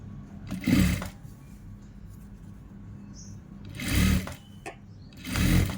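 A sewing machine stitches fabric piping in three short bursts of close mechanical whirring, separated by quiet pauses with faint handling noises.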